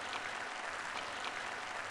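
Faint, steady applause from an audience at a Christian teaching event, a soft even wash of clapping heard from a distance without breaks or voices.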